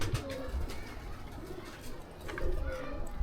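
Pigeons coo softly in a pigeon enclosure, low rounded calls repeating at a moderate distance over faint background rustling and quiet ambient noise.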